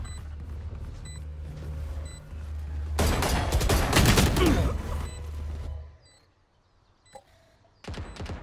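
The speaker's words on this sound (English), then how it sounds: "Placing swarm grenade." In Valorant, a swarm grenade is placed and then fires a loud burst of rapid popping explosions lasting a few seconds. Game hum and small beeps sound before it, near-silence follows, then the hum resumes.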